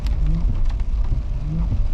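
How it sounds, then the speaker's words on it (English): Rain falls at a lakeside campground at Rend Lake, Illinois, a loud, close, steady patter with low rumbling underneath and no voices. "since it's raining"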